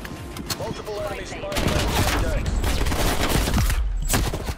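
Rapid gunfire from the video game Call of Duty: Black Ops Cold War rattles in loud dense bursts that grow heavier halfway through. Players chatter excitedly over the shooting.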